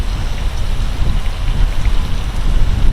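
Strong wind blowing across open Moab desert, a steady, rough low roar with gusty buffeting throughout and no voices.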